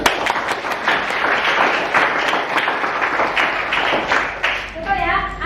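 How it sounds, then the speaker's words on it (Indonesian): A classroom of students claps briskly and loudly in close, fast beats during a lesson on digestion, ending as a teacher's voice comes in. "Oke, tepuk tangan."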